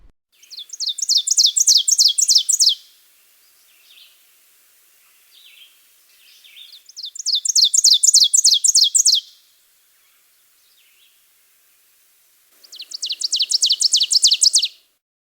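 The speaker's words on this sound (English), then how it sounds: "It's a ground-dwelling member of the warbler family, an ovenbird, so named because it builds its nest on the forest floor" Ovenbird singing in spring woodland in Maine, three loud, clear bursts of rapidly repeated, rising two-note phrases, each lasting about two seconds with quiet gaps between, close and alone.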